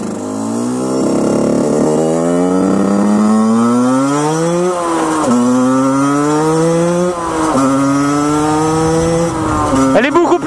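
A Derbi GPR 50cc two-stroke motorcycle with a Conti exhaust starts and runs loud and close, its engine note climbing in repeated rising revs that drop back before climbing again.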